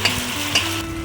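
Ginger, garlic and green chilli paste stirred in a frying pan, a steady close sizzle broken by two quick scraping strokes of the spoon against the pan, with no voices.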